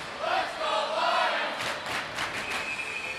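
An enthusiastic crowd at a Wednesday-night suburban high school hockey playoff game: sustained rumbling cheers and shouts from many people in an indoor rink, with a few sharp whistle-like squeals near the end.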